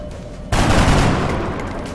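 A loud, close burst of gunfire in the XCOM video game, with a dense rattling volley that starts suddenly and holds steady with no pauses.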